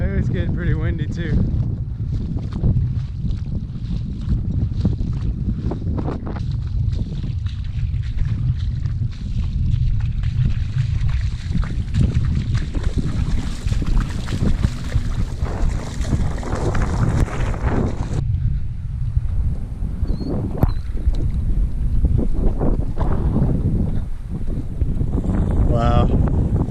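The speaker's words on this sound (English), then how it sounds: "it's getting pretty windy too." Strong wind buffets the microphone in a lakeside park the morning after Hurricane Laura, a constant low roar while a person talks intermittently.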